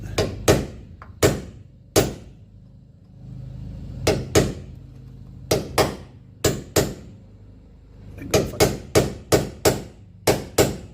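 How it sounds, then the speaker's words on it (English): A hammer bangs repeatedly on loose bolts, loud sharp metal impacts coming singly and in quick bursts of three or four, with brief quiet gaps between. "Sometimes all you need to do to get loose bolts out is actually bang them with a hammer a couple of times"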